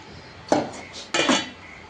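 A spoon stirs Good Day biscuit batter with milk in a bowl, making two bursts of scraping and clinking about half a second apart, close and moderately loud, with no voices.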